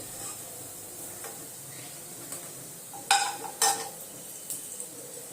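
Ginger paste dropped into hot oil left from deep-frying lentil cakes gives a soft, steady sizzle, with a couple of sharp utensil clinks against the pan partway through.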